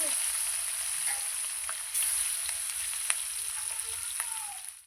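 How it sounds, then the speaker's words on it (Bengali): Katla fish fries in hot mustard oil with a steady, moderately quiet sizzle and scattered small crackles and pops, and it fades out at the end. "আমার তেল ভালো করে গরম হয়ে গিয়েছে আমি এবার মাছগুলো ভেজে নেব"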